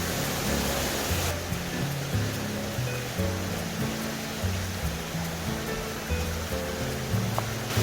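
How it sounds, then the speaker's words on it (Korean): Steady rushing water from a mountain stream flowing over rocks on a hiking trail, a continuous broadband wash with low rumbling tones underneath, close and fairly loud. "옆에 물소리 어때요? 야 시내 물소리 너무 좋습니다."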